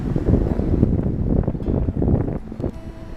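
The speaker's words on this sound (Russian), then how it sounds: "Ветер, правда, крепкий." Strong gusts buffet the microphone outdoors, a loud, continuous low rumble of wind noise that swells and dips throughout, with no voices heard.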